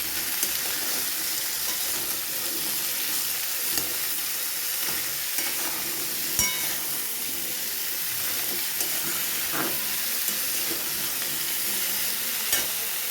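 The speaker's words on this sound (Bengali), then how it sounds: "এবারে একটু ভালো করে নেড়ে চেড়ে নেব।" Cumin powder, green chili and grated ginger frying in a pan for a vegetarian potato curry, with a steady close sizzle and spatula scrapes and stirs recurring irregularly throughout.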